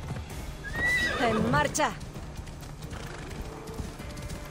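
A horse in Assassin's Creed Odyssey gives a loud whinny with rising and falling pitch, while its hooves clip-clop underneath, then quiet trotting continues; someone speaks briefly over it.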